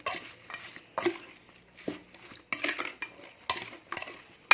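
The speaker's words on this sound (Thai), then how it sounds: "ใส่ลงไปค่ะ คนเลยค่ะมันเข้ากัน" Spoon scraping and clinking in a bowl while mixing a raw fish mixture for Thai-Lao mok pla siu, with small fish, chili and herbs; several distinct close stirring strokes with pauses between them.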